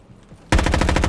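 Rapid automatic gunfire from a Roblox shooting game bursts in after a quiet half second, a loud, fast, evenly spaced stream of shots to the end.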